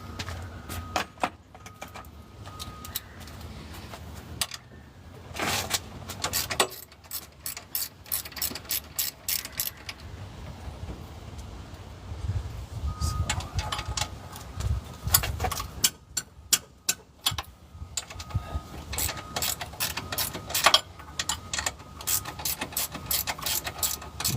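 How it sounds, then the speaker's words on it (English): Ratchet wrench cranking bolts during a cylinder head teardown on an engine, 16 mm socket; close, loud runs of fast ratcheting clicks in repeated bursts with short pauses and occasional metallic clatter, with no talk. "A little ratchet work."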